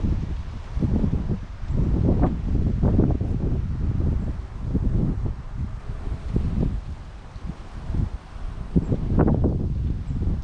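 Gusty wind blowing outdoors on a winter bass fishing outing, buffeting the microphone in loud, uneven rushes that swell and ease across the whole stretch, with a faint rustle underneath and no talking.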